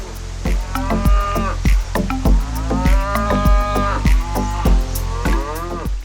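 Deep, drawn-out lowing from a herd of bison, repeated moans overlapping continuously, loud and close with a rumbling low end.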